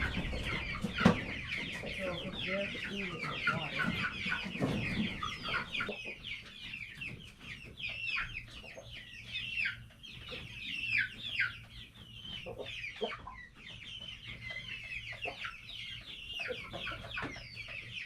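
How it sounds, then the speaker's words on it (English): Several chickens cluck and chatter nearby inside a coop on a hot day, a busy overlapping stream of calls with a few louder squawks. "I set a GoPro inside of the chicken coop to get some footage of the chickens"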